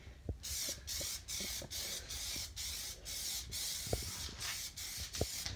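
A spray gun lays a coat of paint on a Honda car in a rapid series of short hissing bursts, each separated by brief pauses, with light mechanical clicks underneath.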